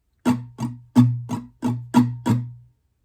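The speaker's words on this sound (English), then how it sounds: "But with the emphasis, it sounds like this." Acoustic guitar playing strumming pattern 1 from a song with accented strums, seven close, bright chord strokes in a lilting rhythm where some hits land noticeably harder than others, ending with a short ring-out.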